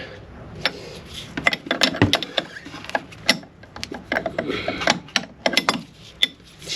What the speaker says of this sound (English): we need a wrench. Just want to tighten it down a little bit.